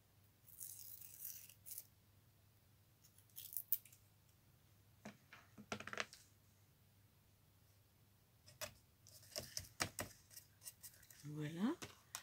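Scissors snip through paper for a collage in short, faint clusters of cuts separated by quiet gaps, with a soft voice speaking now and then.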